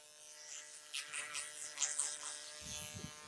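Electric hair clippers buzz during a step-by-step skin fade haircut, a faint, steady motor hum with brief louder passes as the blade meets hair, close by and without speech.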